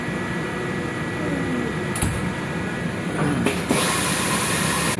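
A food drying machine set to 32 degrees runs with a steady broadband fan hum and airflow hiss, interrupted by a couple of brief clicks or thumps partway through, with no one talking.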